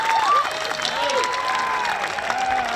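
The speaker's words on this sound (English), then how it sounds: "How about a round of applause for Emma running the show here?" An audience claps through a high school graduation ceremony, dense continuous applause from a crowd, with a few voices calling out over it.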